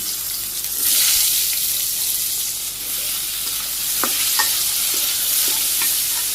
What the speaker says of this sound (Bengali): তেলের মধ্যে আমি জিরা দিলাম অল্প কিছু পেঁয়াজ কুচি দিলাম পেঁয়াজ হালকা ভাজি করে গেছি